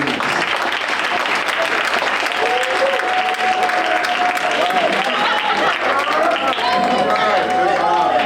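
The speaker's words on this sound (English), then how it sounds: "I want you guys to give a clap for Tavon" Audience applause at a STEM awards banquet, a steady dense wash of clapping filling the room for the whole stretch, with voices and cheers mixed in.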